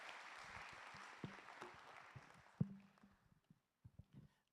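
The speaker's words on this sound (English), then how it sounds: "Can we give him a round of applause?" Applause greets a speaker at an International Mother Language Day conference, a soft wash of clapping from the audience that thins out into a few scattered claps and thumps before fading.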